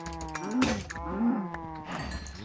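Cows mooing in the video game Minecraft, several drawn-out moos over a steady game soundtrack, fairly close and moderately loud, with no speech.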